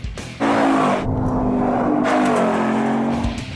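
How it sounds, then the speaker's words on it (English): A Ford Mustang Boss 302 with a 5-liter V8 roars loud and close, its engine note holding a steady high rev after a sharp onset, with faint tire noise around it. "Or the race-ready Boss 302, with a 5-liter V8 you can take to the racetrack."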